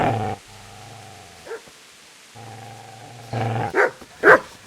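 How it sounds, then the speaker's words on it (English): A dog in the medieval video game Kingdom Come Deliverance gives low growls, then breaks into several loud, close barks near the end. "Get away, you mutt!"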